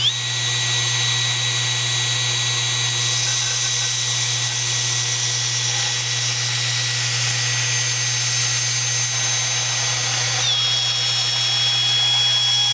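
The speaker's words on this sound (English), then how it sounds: "I have chucked in a drill, and I'm going to use a belt sander to make a bullnose" A power drill spins a 5 mm steel rod against a belt sander to shape a rounded bullnose end, producing a loud, steady, high-pitched whine with a constant low hum beneath, running unbroken throughout.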